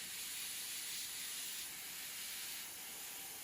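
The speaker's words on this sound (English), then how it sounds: "I'm just gonna start laying in that blue. I'm just overspraying that white." Airbrush spraying blue paint over white onto a fully flocked wood duck drake decoy, a steady close airy hiss running the whole time with slight swells, no talking.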